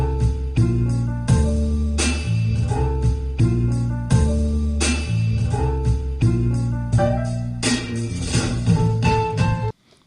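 Sampled beat pattern built from a record: looping drums with punchy kicks and snares under chopped melodic stabs, a steady repeating groove that cuts off abruptly at the end.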